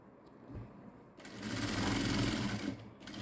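A sewing machine stitching fabric runs in a steady whirring burst, starting with a brief knock, then swelling to a loud continuous hum for about two seconds before easing off, close to the microphone with no voices.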